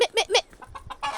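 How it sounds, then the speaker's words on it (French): A rooster on a farm gives three quick clucks, close and clear, followed by a few softer low clucking notes. "Bon, René le coq, là."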